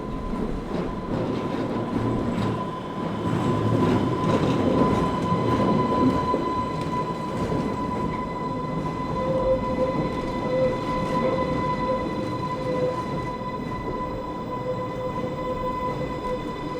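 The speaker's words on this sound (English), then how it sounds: "This is 484005, one example of the 5-strong Class 484 fleet." A Class 484 train on the Island Line, rebuilt from ex-London Underground stock, rumbles along loudly and steadily, with sustained wheel squeal and humming tones running over the rolling noise, no voices present.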